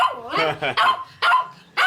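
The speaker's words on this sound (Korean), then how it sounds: "여전히 짖는구나." A small Maltese dog barks in sharp, loud yips, four or five close bursts in quick succession, with a person's voice mixed in.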